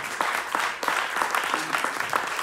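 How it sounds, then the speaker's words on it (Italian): Audience applause at a talk about dubbing, a dense, steady patter of clapping from a room of listeners, moderately loud and continuous for a couple of seconds with no voices over it. "Applausi"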